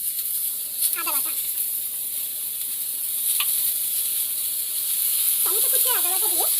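Chopped tomatoes and ginger paste sizzling in hot oil with fried onion and potato for a paneer ghugni, a steady loud hiss throughout while a voice speaks at moments.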